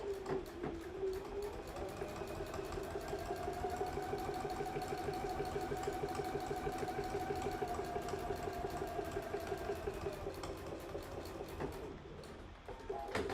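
A sewing machine runs continuously, sewing a permanent stitch on a fly front zipper, a steady whirring drone for over ten seconds that slows near the end, close and alone without talk.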